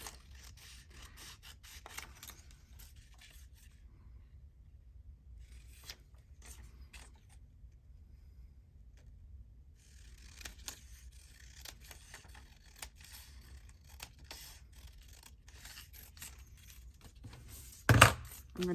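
Scissors cutting paper for a handmade document holder, a faint, quiet run of crisp snipping and rustling with pauses, then a louder bump near the end.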